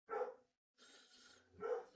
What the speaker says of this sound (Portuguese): Eita, cachorro chato.